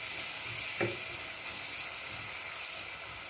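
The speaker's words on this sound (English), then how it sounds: "I'll let it fry a little bit, this onions and green chilies and the curry leaf" Onions, green chilies and curry leaves fry in a pan with a steady close sizzle, broken by a brief stir or clatter near the start.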